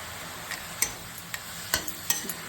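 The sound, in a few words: red amaranth leaves frying in oil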